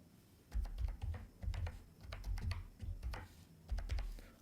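Keys clatter on a computer keyboard as a password is typed in bursts of close, irregular clicks, with short pauses between runs of strokes and no voices.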